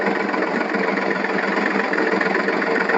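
A tractor engine drones steadily while fertilizer is sown in a peanut field, a loud, even, close mechanical rumble with slight pulsing and no voices.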